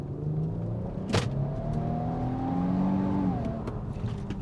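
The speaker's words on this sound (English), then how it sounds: "it sounds so much like a sports car. I'm going to punch it again." A 2025 Infiniti QX80 luxury SUV's engine pulls hard under full acceleration from inside the cabin, a steady rising drone that climbs in pitch and then drops at a gear change near the end, with no talking.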